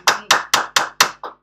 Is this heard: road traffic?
no